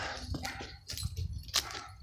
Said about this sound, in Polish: A, słychać pieska